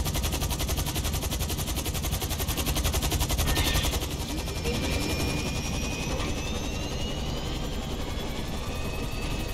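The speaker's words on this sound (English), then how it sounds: "Military one is in pursuit of two police helicopters." A video game helicopter's rotor in GTA Online chops rapidly and steadily throughout, with rapid gunfire-like bursts and a whooshing pass as it moves overhead.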